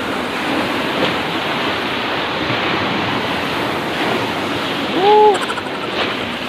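Rough sea waves crash and roar continuously at a beach, loud and close, with heavy wind buffeting the microphone and a brief whistling tone near the end.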